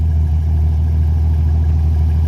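A Jeep XJ engine that has been stalling idles close by with a loud, steady, low rumble and constant drone, no voices or other sounds.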